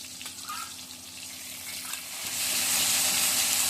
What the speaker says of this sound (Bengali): মশলাটা খুব ভালো করে আমি কষিয়ে নিচ্ছি